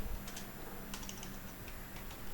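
Soft, scattered keyboard clicks fall in small clusters as a ledger name is typed into Tally Prime accounting software on a computer, quiet against a steady room hiss.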